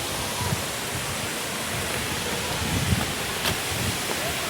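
Continuous broadband roar of Chhange Waterfall, a mountain waterfall reached by a trek, heard steadily from a viewpoint with faint low rumble and no talk.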